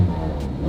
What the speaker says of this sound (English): I missed the sweet, sweet sound of the Scuderia